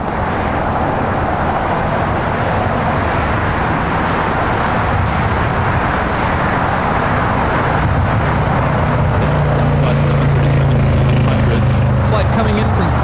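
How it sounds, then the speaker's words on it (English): A Spirit Airlines Airbus A321neo taking off at LAX makes a dense, rumbling engine roar that holds steady and grows slightly heavier near the end, with a person talking over it. "That is Spirit Airlines 1273 taking off to San Antonio on the"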